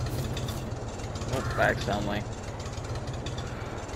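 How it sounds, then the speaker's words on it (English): A steady low tractor engine idle chugs throughout, close by, in a farming game, with a person speaking briefly over it partway through. "Parked my tractor on the side of that fence."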